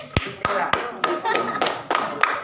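Short burst of classroom clapping after a pupil answers correctly during a lesson, several sharp claps spaced out over a couple of seconds with a teacher's voice over it.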